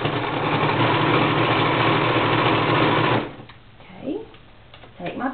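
A sewing machine stitches gathered fabric in one steady, loud, whirring run for about three seconds, then stops, leaving quiet handling sounds and a brief voice.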